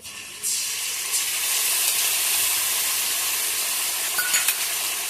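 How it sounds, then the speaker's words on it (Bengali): Ginger, cumin and chili pastes hit browned onions in a hot pan, bursting into a loud, steady sizzle that holds for several seconds, close and without talk. "এর মধ্যে আদা বাটা আছে, জিরা বাটা আছে, লঙ্কা বাটা আছে, এটা দিয়ে দেব।"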